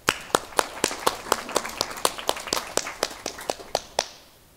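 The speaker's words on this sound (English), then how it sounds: "Let's give another round of applause for Harris Stowe State University's 20th president" Crowd applause honoring Harris-Stowe State University's 20th president at his inauguration: a steady run of sharp claps, loud and near, with strong individual hand claps standing out before it fades away at the end.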